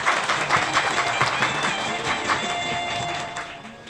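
An audience at a Korean civic group's founding ceremony claps at length, a dense, moderately loud patter of many hands that fades slightly toward the end.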